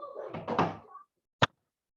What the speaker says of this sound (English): I can shut this door now.